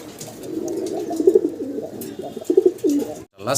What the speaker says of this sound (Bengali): আমরা এক পিস লাহোরি কবুতর দেখাচ্ছি আপনাদেরকে